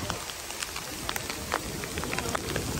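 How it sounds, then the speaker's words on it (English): Hail pelts the ground in a steady patter of many sharp pecks in front of the Damascus Gate in Jerusalem's Old City, dense and close, with no talk over it. "just a slight hailstorm in front of the Damascus Gate"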